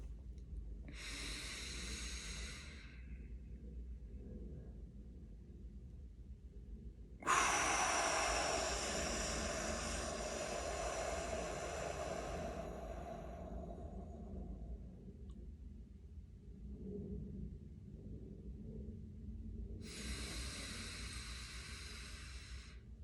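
Slow, relaxed breaths during a guided deep-rest session: two soft airy inhales or exhales near the start and end, with a longer, stronger breath in the middle, set against a quiet low background hum and no talking.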